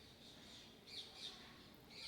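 Faint bird calls sound against quiet background hiss: a few short, high squawks, scattered and somewhat distant.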